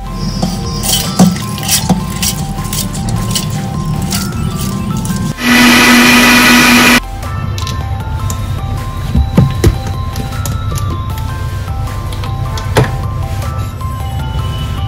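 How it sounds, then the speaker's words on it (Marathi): A kitchen mixer grinder grinds soaked rice and dal for dosa batter in a short loud whirring burst midway, framed by close clinks and handling of the steel jar before and after. "आता मी वाटून घेणार आहे मिक्सरच्या भांड्यामध्ये"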